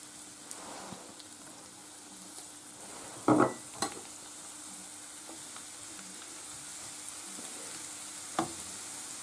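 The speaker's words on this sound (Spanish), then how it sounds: "Una vez que está caliente, lo que echamos es el ajo para que se vaya haciendo" Garlic cloves frying in plenty of hot oil for rabbit al ajillo, giving a steady, soft sizzle and crackle throughout, broken by a couple of sharp utensil clinks near the middle.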